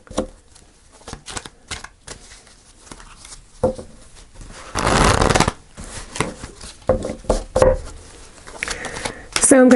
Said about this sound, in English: Let's pull some tarot cards and see what we get.